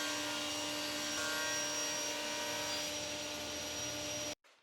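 A saw rips the edges of birch plywood in a woodworking shop, a loud steady high-pitched whine holding for over four seconds before cutting off abruptly.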